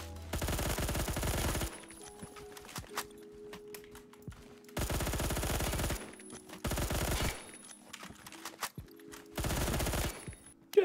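A Colt SMG in Phantom Forces fires four long automatic bursts, loud and close, separated by quiet gaps holding faint clicks and handling noises.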